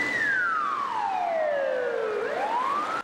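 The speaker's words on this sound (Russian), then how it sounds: "Вой полицейских сирен раздается по всему проспекту машиностроителей." A police siren wails on Mashinostroiteley Avenue in Yaroslavl, Russia, one long descending sweep that turns and climbs again, clear and fairly strong over low traffic rumble, with no voices.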